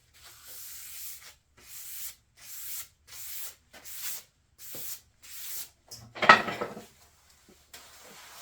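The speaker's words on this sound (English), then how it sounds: "I'm gonna do a couple of very light sanding passes over this new P-Tex" Light sanding strokes over fresh P-Tex on a ski base, about nine soft rhythmic rasping passes at close range with brief pauses between, one louder scrape near the end.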